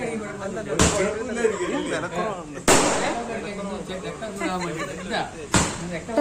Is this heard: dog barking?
no